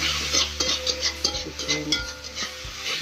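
Seasoning paste for a spicy shredded-chicken cireng filling is stirred in a hot frying pan, with steady sizzling and repeated scraping and clinking of a utensil against the pan, close and continuous.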